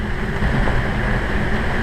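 Strong wind of around 34 knots buffets a boat at anchor in Mexico, a loud, continuous low roar and rumble of gusts and wind noise against the microphone, steady for the whole moment.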